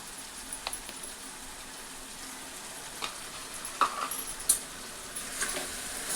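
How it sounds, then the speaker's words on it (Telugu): Ginger garlic paste sizzles quietly in a pan while preparing an Andhra-style stuffed eggplant curry, a steady soft frying hiss broken by a few light clicks of a spoon against the pan. "ఇప్పుడు కొద్దిగా అల్లం వెల్లుల్లి పేస్ట్ కూడా వేసుకుంటున్నాను"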